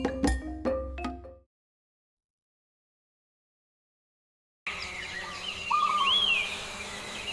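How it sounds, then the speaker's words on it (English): Birds in a morning forest give a few thin chirps and whistled calls after a short silence, faint over a quiet background hiss. "The birds are chirping loudly."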